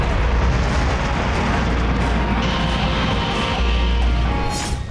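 Nuclear bomb test explosion at sea: a sustained, loud, deep roaring rumble that fills the whole stretch steadily and thins slightly at the very end.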